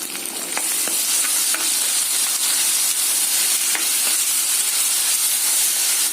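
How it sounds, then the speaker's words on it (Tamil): Onions sauté in a pan with ginger garlic paste while cooking coconut milk pulao, giving a steady, close sizzle with occasional faint stirring clicks and no voices. "வெங்காயம் வதங்கட்டும்."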